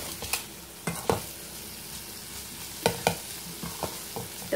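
Cheesy masala corn being stirred in a pan, with a few sharp scraping clinks spaced out over a low, steady background and no voices.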